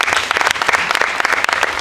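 Lively crowd clapping at the 2019 Resolution Insurance sales awards in Mombasa, a loud, close, continuous patter of many hands.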